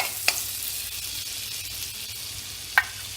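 Butter sizzling in a hot pan over a medium flame at the start of a white sauce, a steady soft crackling hiss broken by two sharp brief clicks, with no voices.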